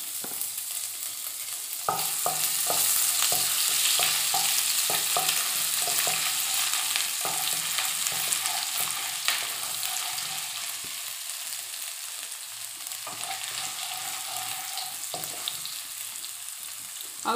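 Ginger frying in a mix of pork fat and oil for chilli pork, a constant bright sizzle with light scrapes and taps of a spatula stirring through the pan, no talking.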